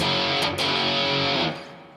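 Heavy distorted electric guitar tuned to drop D through Seymour Duncan Nazgul or Sentient humbucker pickups, playing a dense modern metal tone: a sustained loud chord with a brief break near the middle, cut off and fading to ringing at the end.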